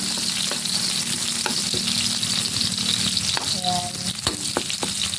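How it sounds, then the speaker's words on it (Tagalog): Garlic, onion and ginger sautéing in a pan for pork and chicken adobo, a steady close sizzle with scraping stirs and clinks throughout, a brief word spoken early over it. "gisagisahin natin muna bawang, sibuyas, and"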